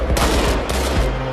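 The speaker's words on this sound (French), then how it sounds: "Les hommes du Yassam s'entraînent toujours, à balles réelles." Israeli Yassam police fire live ammunition during a training exercise in Jerusalem, a rapid burst of loud, close gunshots in quick succession over little more than a second.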